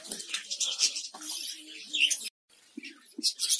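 Colourful colony of java sparrows in an aviary on a bird farm, giving quick, high, scattered chirps that overlap in a busy chorus, with one brief silent gap partway through.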